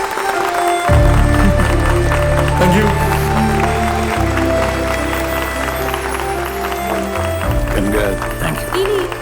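An audience at a Malayalam film event claps loudly in a sustained round of applause, with music playing underneath throughout.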